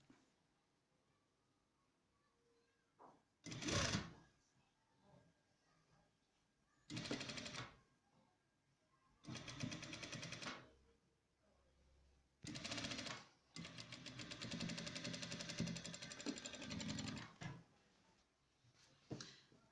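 Domestic sewing machine stitching fabric for a child's dress, several separate runs of fast rattling mechanical stitching lasting a few seconds each, close, with quiet pauses and someone talking between them.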